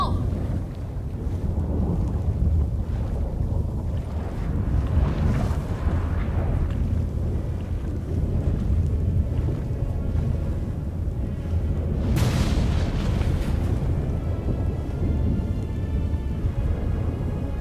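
Stormy sea in The Witcher 3 video game: a dense, continuous roar of wind and rain with deep rumbling thunder beneath, swelling in a loud gust near the middle.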